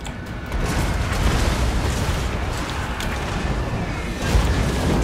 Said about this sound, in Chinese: 又一发，哇，直接爆掉啊！